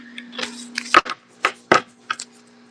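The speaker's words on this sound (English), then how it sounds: "Putting these cards away, I'm going to shuffle them again." Deck of tarot-style cards being shuffled by hand indoors, a series of quick riffling and flicking bursts in uneven rhythm, close and fairly loud over a faint steady hum.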